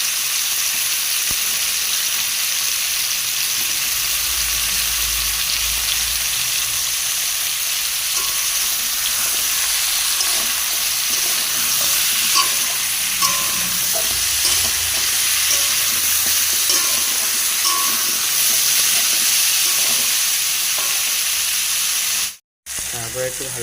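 Bata fish curry with pumpkin and potato sautéing in a pan, a steady dense sizzle with occasional stirring scrapes, continuous throughout with a brief cut near the end.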